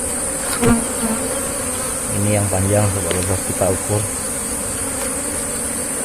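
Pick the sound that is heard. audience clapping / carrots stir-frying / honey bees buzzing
honey bees buzzing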